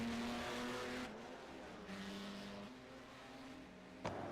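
Engines of 1964 sportscars in a racing video game, quiet and steady with a tonal motor drone shifting pitch as gears change and revs rise and fall, plus a brief click near the end.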